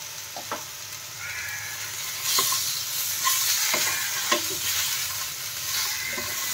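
Vegetables with salt and turmeric are stirred in a pan, with a continuous close sizzle and intermittent scraping and clinking of the spatula on the pan.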